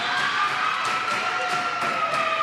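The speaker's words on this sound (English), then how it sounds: "As the crowd pumps up for the players" Crowd cheering and shouting during a college volleyball match, McLennan Community College at Hill College, a steady, loud wash of voices filling the gym without pause.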